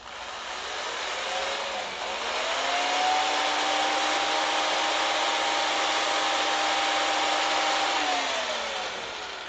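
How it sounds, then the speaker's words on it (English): A power sander works over the finish of a wooden vessel, giving a steady whirring hum that ramps up, holds for several seconds, then winds down. It sounds moderately close and quiet, with no voices. "So then I'm going to take this and take my power sander."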